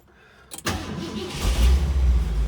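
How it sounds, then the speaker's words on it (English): A 1968 Shelby GT500KR engine cranks briefly, then catches and roars to life, settling into a deep, loud rumble close by. "Let's fire it up and let you hear it running."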